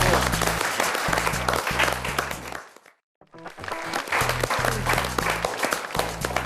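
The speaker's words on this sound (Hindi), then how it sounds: "आप बजा रहे हैं तालियां बहुत खूब के लिए" Dense clapping from a comedy show audience fills the space, loud and sustained with low rhythmic tones underneath, dropping out briefly midway before surging back.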